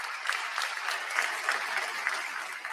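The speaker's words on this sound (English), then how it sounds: "You can clap for that." A political rally audience claps in a brief, even burst of applause, dense and steady hand-clapping heard alone for a couple of seconds.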